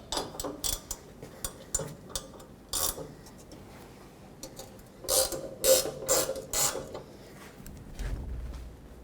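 A ratchet loosens the bolt on a front bumper support bracket mount of a 2007-14 Chevy Silverado truck, giving close bursts of sharp clicking strokes with short pauses between them.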